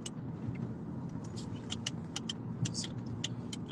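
A car cruises along a dark road, heard from inside as a steady low rumble of engine and tyres with faint clicks and rattles from the cabin.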